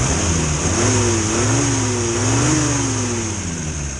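A 1962 Morris Minor's engine runs close by, its pitch rising and falling gently as it revs, under a steady loud broadband wash.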